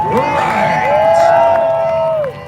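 At a Saturday night IJSBA freestyle watercraft show, a crowd cheers, whoops and claps in a loud burst that fades near the end, with a sustained whistle-like tone riding over it.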